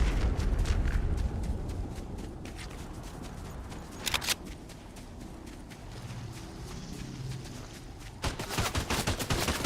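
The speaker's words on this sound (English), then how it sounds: "Who's shooting at me?" Rapid gunfire in a video game, fast repeated shots in bursts that thin out in the middle and pick up again near the end, with heavy crackling at the start.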